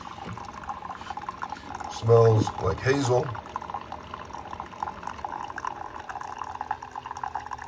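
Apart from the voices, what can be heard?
coffee pouring from Keurig K-Duo coffee maker into cup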